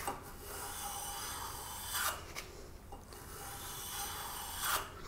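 A hand plane cuts a small chamfer on the corner of a wooden workpiece held in an end vise, making several close, raspy shaving strokes with brief pauses between them.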